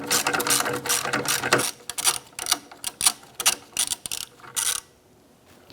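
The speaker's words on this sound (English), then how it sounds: "Use your socket and extension." Rapid ratcheting clicks from a socket wrench with an extension loosening an 8mm bolt on a Ford Five Hundred, in quick bursts of strokes with short pauses, close and fairly quiet.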